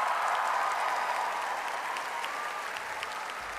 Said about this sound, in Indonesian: Jadi saya ingin kita kasih tepuk tangan yang meriah untuk Mas Pri GS.